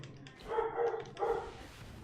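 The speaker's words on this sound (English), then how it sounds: "I apologize for the dog." A pet dog barks in a room during a Dead Cells gaming session, two loud bursts of barking about half a second apart over faint game sound, with no talk.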